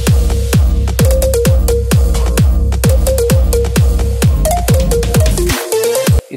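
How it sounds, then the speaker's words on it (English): A big room house synth lead from a track: punchy plucky stabs over a thumping kick, about a dozen evenly spaced hits with a rising note near the end before cutting off abruptly. "So today we're gonna make a typical big room house lead."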